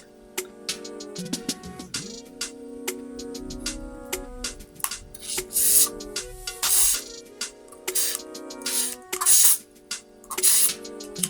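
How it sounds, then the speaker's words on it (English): Repeated short bursts of spraying hiss from a sprayer, about eight quick puffs at irregular intervals over a tonal background hum. "I prefer this kind of spray"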